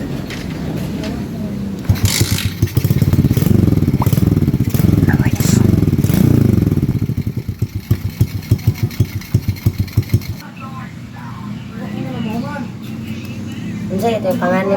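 Motorcycle engine fitted with a homemade exhaust pipe made from a butane canister, loud and close, idling and revving with a raspy throb, then slowing to sputtering pops before people talk over a quieter idle.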